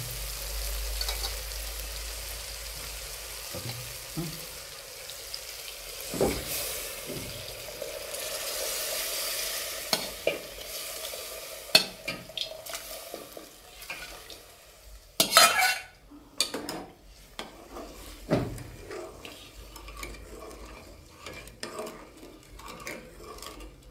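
Masala paste frying in oil while being stirred in a pan, with soft sizzling and intermittent scraping and clinking of a spoon against the vessel, louder scrapes clustering toward the end.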